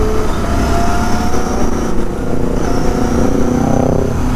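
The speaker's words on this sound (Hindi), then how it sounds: "ये ज़्यादा लाउड हो रही है भाई बाइक" A Kawasaki ZX-10R motorcycle engine revving loudly nearby on a road ride, a dense, continuous roaring engine note that rises in pitch, heard close and alone.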